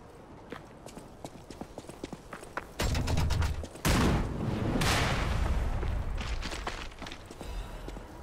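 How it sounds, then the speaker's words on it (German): Cannon-firing enemy in the Lies of P video game, with a clattering sequence of hoof-like thuds followed by two loud broadband blasts of gunfire near the middle, then a sustained rumbling roar that slowly fades. "Durch den Sumpf werde ich nicht laufen, solange der Kanonen-Otto da rumballert."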